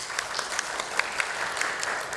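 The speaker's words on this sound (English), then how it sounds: "let's give the warm applause to Dennis." Steady applause from an audience, a dense wash of clapping with individual claps popping out, sustained without pause.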